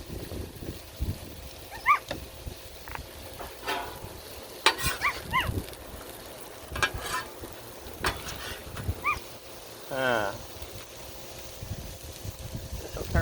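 Shrimp sizzling in oil on a Blackstone griddle outdoors, a steady close crackle with sharper pops and clinks of a metal spatula scraping the flat top at intervals.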